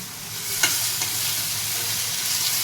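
Green chillies fry in a pan with onions for a dry fish curry, a steady hiss of sizzling oil with a couple of sharp scrape or stir clicks, close and continuous with no talking.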